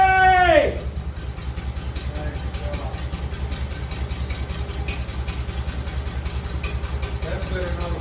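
A 1951 Farmall Cub tractor engine idles steadily close by with an even low chugging pulse after a brief opening whine, holding a constant rhythm throughout.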